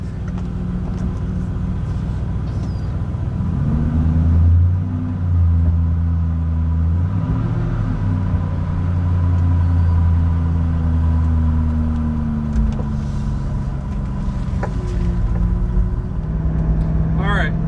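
A Shelby Cobra's engine idles just after starting, a loud deep rumble close by with rising and falling revs and a faint high whistle near the end, no one talking.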